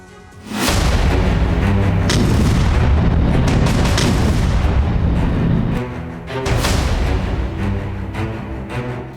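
Artillery fire and explosions from Russian forces shelling near Belgorod during the war in Ukraine: heavy, loud booms with rolling rumble, one long blast followed by a second after a short gap.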